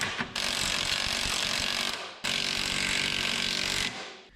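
An impact wrench hammers at a door hinge nut on a 1964 International pickup in two loud, close bursts of rapid rattling, about two seconds each, separated by a brief pause.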